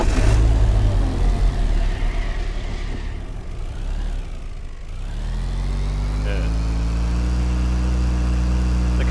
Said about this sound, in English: That is a very bad engine sound.